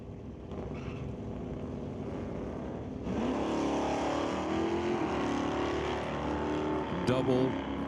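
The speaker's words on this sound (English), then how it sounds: "a street-driven Mustang out here battling it out on the weekend at the Titanium Strip" Street-driven Mustang drag racing at the Titanium Strip, a distant engine murmur that jumps to a loud sustained roar with rising revs, a commentator talking over it.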